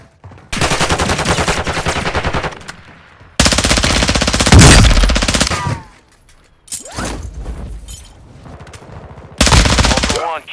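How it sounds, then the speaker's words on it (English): Call of Duty gunfire arrives as four long bursts of rapid automatic fire. They are loud and close, separated by short quiet gaps, and the third burst sounds somewhat weaker. "You are taking fire."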